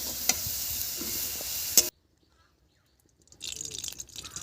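Oil goes into a hot pan for a vegetarian banana-flower dish and sizzles with stirring, a bright crackling fry that cuts to near silence, then returns quieter, close by without speech.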